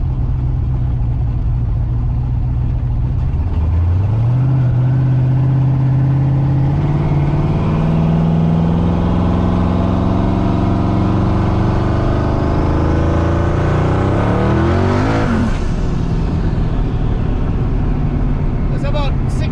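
A turbocharged car running 13 psi of boost pulls hard, its engine note climbing steadily in pitch through a long loud acceleration before the tires break loose and spin near the end, a voice talking over it.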